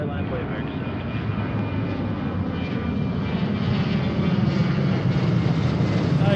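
An American Airlines 727 jet takes off, a broad, steady roar of engine noise that holds loud and close throughout and swells slightly toward the end, with no voices over it.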